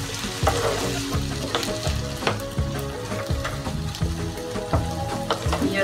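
Chopped tomatoes fry in a hot pan, a loud steady sizzle with crackling and repeated clinks and scrapes of stirring, close up and without talk.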